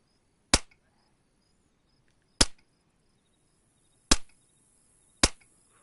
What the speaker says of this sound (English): He's taking them out with a silenced pistol